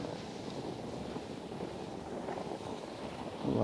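Wind rushes steadily across a glacier during a tandem ski descent in the Vallée Blanche, a dense continuous roar buffeting the microphone up close.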